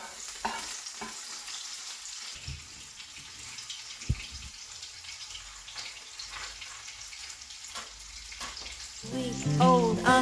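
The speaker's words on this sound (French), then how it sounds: "On va faire de l'oignon frit." Onions fry in oil in a pan with a soft, continuous crackle and sizzle, stirred now and then with scraping clinks, close and fairly quiet, ending in a louder clatter.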